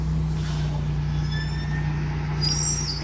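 A city bus with air brakes idles nearby with a steady low engine rumble, and a hiss of air brake release rises near the end in a busy street setting.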